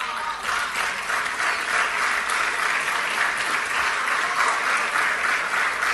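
An audience at a talk on financial markets and economic policy breaks into sustained applause, a loud, dense wash of many hands clapping that stays even for the whole stretch, with no speech heard.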